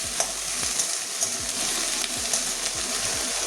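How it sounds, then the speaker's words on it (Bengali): Okra (bhindi) fries in a pan with a continuous crackling sizzle, punctuated by quick knocks and scrapes as the pieces are stirred, close and alone without any voices. "তার জন্য ভেন্ডিটাকে আগে একটু ভেজে নিচ্ছি।"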